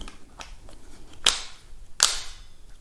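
The drum lock of an Umarex Elite Force H8er airsoft revolver, giving two sharp, close clicks about a second apart with faint handling noises between them.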